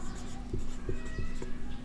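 Marker or chalk strokes on a board during a geography class, short scratchy bursts repeating roughly every third of a second against a steady low room hum, with no speech over them.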